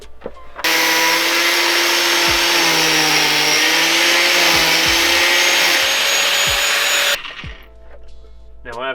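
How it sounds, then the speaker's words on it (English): An angle grinder with a 1mm cutting disc cuts through a bolt in one loud, continuous high whine lasting about six seconds, then the motor stops and winds down. "Last but not least, 1mm cutting disc on the grinder."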